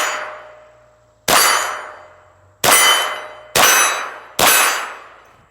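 A .22 LR bullet from a Bear Creek Arsenal BC-201 rifle strikes a steel Crate Tactical target four times, each hit a sharp metallic clang that rings and decays, heard at a distance with gaps between shots.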